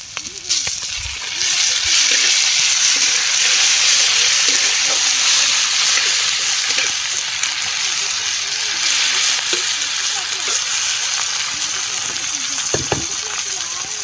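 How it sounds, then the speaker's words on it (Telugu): Tomatoes and mixed vegetables fry in a pan in a village kitchen, giving a steady, loud hiss throughout with occasional stirring scrapes and faint voices in the background. "కూరగాయలు బాగా ఎగినాయి."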